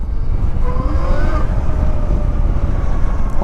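A motorcycle rides at steady speed with heavy rumbling road and wind noise, and a thin motor whine rising and falling through it.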